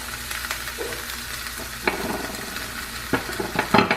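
Garlic and scallions sizzling in a hot pan that was just used for cooking beef, a steady close frying hiss with a few sharper clicks and stirs, no talk.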